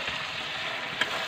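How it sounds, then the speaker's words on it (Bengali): Chicken legs cut into pieces sautéing in a pan, with a brief, steady sizzle close by, one small clink partway through, and no talking. "তো এখন কষাচ্ছি, রান্না করছি"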